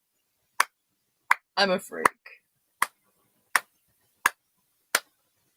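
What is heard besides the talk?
slow clap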